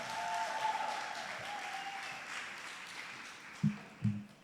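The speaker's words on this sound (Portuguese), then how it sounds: "Salve de palmas para a Jana" Quiet, distant audience applause greeting a guest joining a podcast recording, a steady patter of claps that ends with a couple of soft thumps.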